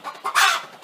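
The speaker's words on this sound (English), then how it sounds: "these hens they're in there now and they're laying" Laying hens cluck inside a chicken coop's laying boxes, a brief, close burst of soft clucks rising to one louder, raspy note.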